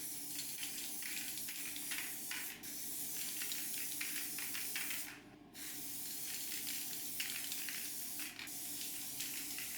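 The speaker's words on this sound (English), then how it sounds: "Then I go in with a thicker coat of the Crackle paint." A thick coat of crackle paint sprayed onto a turned bowl, a close, steady hiss lasting several seconds with a few brief breaks.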